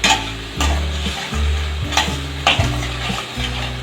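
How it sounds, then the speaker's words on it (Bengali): Salted spice paste frying over medium heat while a spatula scrapes the pan in regular strokes, roughly one every second, over a steady loud sizzle, with no voices. "এখন আমি ভাজা ভাজা করে নেব।"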